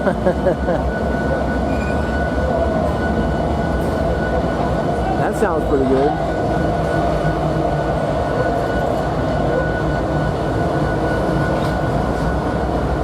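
A train rumbles past steadily at close range at the Virginia Museum of Transportation, a continuous heavy mechanical roar with a brief screech, while a person speaks briefly over it.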